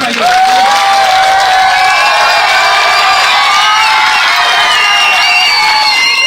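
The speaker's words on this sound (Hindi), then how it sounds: "जोरदार तालियां भाइयों।" Large crowd at a village public rally in Haryana claps and cheers loudly and close up, with shouts and whoops carrying over sustained applause.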